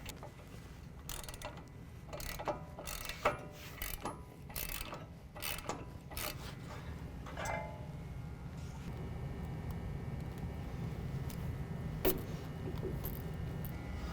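Ratchet removing 21mm brake caliper bolts on a Ford F-150 pickup, a long run of rapid close clicking with brief pauses, settling into steadier mechanical ticking over a low background hum, with no talking.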